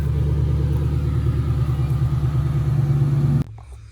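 A 1996 Mustang GT V8 rumbles close by while backing up, a loud, steady low idle drone that cuts off abruptly near the end.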